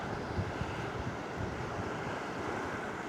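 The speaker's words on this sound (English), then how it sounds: "It's super windy down here." Strong wind on the seashore at Folkestone Warren, a loud constant roar buffeting the microphone over the wash of surf, with no one speaking.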